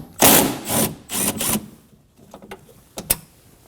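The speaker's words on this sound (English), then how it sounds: "We can now remove these 10mm bolt using the 10mm socket." Socket wrench loosening a 10mm bolt on a Nissan Armada front door panel: several short bursts of ratcheting and metallic rattling, close and fairly loud, followed by quieter scattered clicks and two sharp taps.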